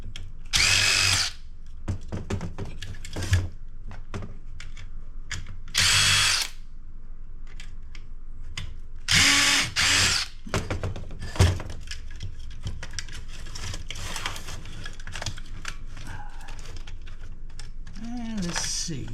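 Power drill backing screws out of scrapped computer parts in a few short bursts of whirring, each lasting about a second, separated by clicks, handling noise and quiet stretches.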